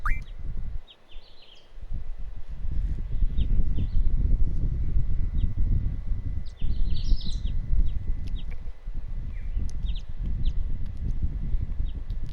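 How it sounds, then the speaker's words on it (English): Birds chirp and tweet in short, scattered calls over a steady low ambient rumble inside a room in the video game Final Fantasy VIII, with no talk. "I always did find this room the natural sounds of the birds relaxing"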